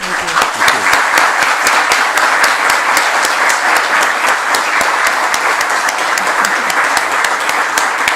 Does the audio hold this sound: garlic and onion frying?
no